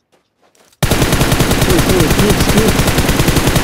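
Gunfire in a competitive shooter video game: after a short quiet start, a loud, sustained rapid-fire burst of machine-gun shots rattles continuously in an even rhythm, with a player's voice briefly heard at the beginning.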